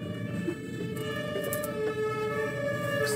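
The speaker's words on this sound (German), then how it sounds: "Boah, ein Krankenwagen." An ambulance siren wails steadily at moderate distance, its tone holding over low traffic rumble, with no voices.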